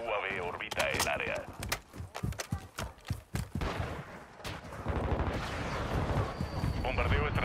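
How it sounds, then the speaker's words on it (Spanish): Hostile strategic bombardment in Call of Duty: Modern Warfare II, a run of heavy booming impacts and rumbling blasts, with game voice lines and other voices talking over them. "Bombardeo estratégico hostil cerca de ti."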